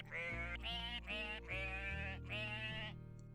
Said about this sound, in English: We have more sheep here, folks.